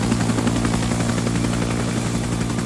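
A helicopter in the video game ArmA 3 drones loud and close with a steady rotor thrum and engine whine, continuous throughout without talk.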